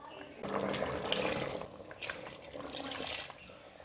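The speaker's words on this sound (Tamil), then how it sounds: "இப்போது நம்ம பிரியாணிக்கு தேவையான ஃபுல் தண்ணியும் நம்ம சேர்த்துடலாம்" Water poured into a pot of half-kilo chicken dum biryani, about 1.25 glasses more. A steady, moderately loud splashing pour runs for several seconds with slight surges.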